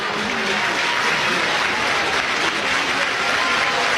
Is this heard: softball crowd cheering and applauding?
yes